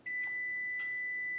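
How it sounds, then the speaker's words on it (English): Kitchen timer going off while a keto pie crust is being prepared, a steady high electronic tone with two short bursts of beeping, clear and fairly close in a quiet room. "there goes my timer"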